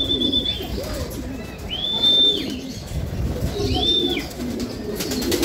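Pigeons cooing at a North Derby pigeon race, with soft throaty coos and a few clear high whistling calls repeating close by over low background noise.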